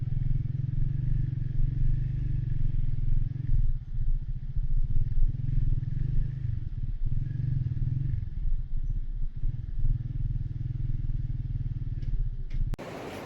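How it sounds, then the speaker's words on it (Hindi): Motorcycle riding on the road toward Sharda in Kashmir, a steady loud engine drone with rattling clatter throughout, cutting off sharply near the end. "ये हमारी बाइक है"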